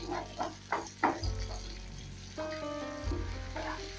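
Chopped onions sizzle steadily in hot oil on a stove, with a few stirring scrapes early on and a continuous close frying hiss throughout.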